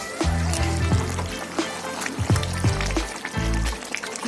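Green herb paste goes into a pot of partly boiled chicken for Dhaba-style hariyali chicken, giving soft wet plops and a pouring slosh in short bursts, close by, over a steady low hum.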